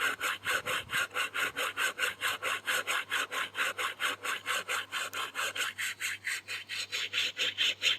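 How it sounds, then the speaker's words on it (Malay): A hacksaw rasps back and forth through metal held in a bench vise in a steady, even rhythm, about two strokes per second, close and continuous with no talking. "Halakan mata gergaji secara selari pada tempat yang sudah ditanda. 4. Memulakan proses memotong."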